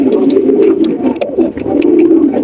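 Domestic pigeons cooing in a pigeon market stall, a steady low murmuring coo from several birds throughout with scattered higher chirps, close and continuous.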